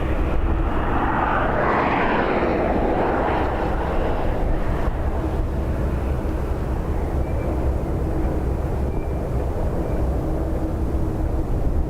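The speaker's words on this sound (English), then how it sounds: "So a Ryanair going around that never even made it out of the cloud base" A Ryanair airliner going around at Dublin Airport in high winds, its jet engines a broad, steady roar from a distance, mixed with wind buffeting the microphone and slowly fading.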